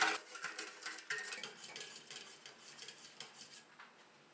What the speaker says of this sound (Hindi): विस्क के साथ इसको अच्छी तरह से मिक्स करेंगे।